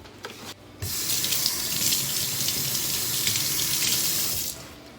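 A faucet runs steadily into a sink, close and continuous for several seconds before shutting off, with a soft splash as hands move under the stream.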